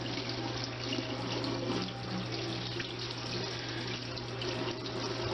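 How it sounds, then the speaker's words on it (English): Tap water runs steadily from a faucet into a sink while a bluegill is rinsed, a continuous close splashing hiss with no talk. "rinse it again, make sure it's good to go."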